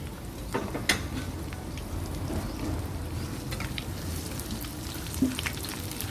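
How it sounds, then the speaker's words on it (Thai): Dried chillies frying in hot oil in a home kitchen while making a Thai dried-mackerel chilli paste, giving a steady soft crackling sizzle with a few louder pops, close and alone with no talk. "นำพริกมาทอดนะคะ"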